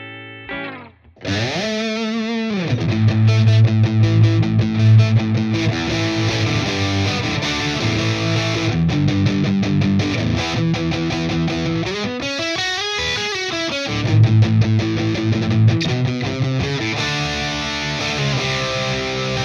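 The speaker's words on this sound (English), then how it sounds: "here's some tones with the Fender Deluxe Reverb and the Pentatone going into the Strymon Flint" Fender Tom DeLonge Stratocaster played through an Ibanez Pentatone into a Fender Deluxe Reverb and Strymon Flint, sustained clean electric guitar chords and melodic lines with rich reverb and tremolo-like shimmer, loud and continuous without talk.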